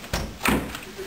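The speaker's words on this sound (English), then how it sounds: "they closed the door on me" A door closes indoors with a soft thud followed by a second heavier knock, brief and fairly close, with faint room noise behind.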